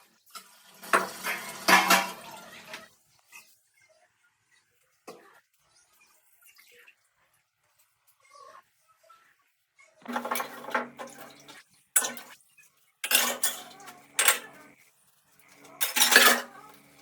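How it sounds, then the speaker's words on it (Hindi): Dishes and utensils being washed in a home kitchen: loud clattering and scraping bursts early on, a long quiet stretch, then repeated clanks and rattles resuming close by, with no talking. "मैं आ गई रसोई में तो मेरे बर्तन पड़े थे तो उन्हें मैं साफ़ करूँगी अब"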